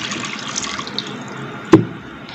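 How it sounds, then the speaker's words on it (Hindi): Two glasses of lukewarm water go into a kadhai for a KFC-style chicken recipe: a soft, splashy pour with a sharp clank of metal partway through, then fading trickles. "कढ़ाई में शामिल करते हैं पानी।"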